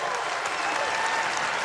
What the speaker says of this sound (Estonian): Palun suur aplaus mu security'le